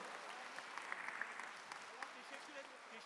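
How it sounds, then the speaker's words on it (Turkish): Applause from a ceremony audience seeing off the President at Beştepe Millet Culture and Congress Center, sustained clapping from a large crowd filling the room with steady, dense patter. "alkışlarınızla uğurluyoruz Cumhurbaşkanımızı"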